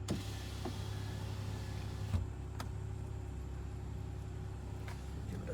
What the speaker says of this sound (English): Little window sound, so it's hot.